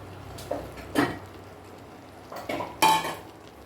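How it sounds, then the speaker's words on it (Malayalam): A spoon stirs raw banana paste into chicken curry in a pan, giving a few separate scraping clinks against the metal with quiet gaps between them, close and alone. "ഏത്തക്കായുടെ പേസ്റ്റ് നമ്മളിതിനകത്തേക്ക് ആഡ് ചെയ്തിട്ട് നല്ലോണം ഒന്ന് ഇളക്കി ചിക്കൻ നമ്മളൊന്ന് ഇളക്കി മിക്സ് ചെയ്തതിന് ശേഷം"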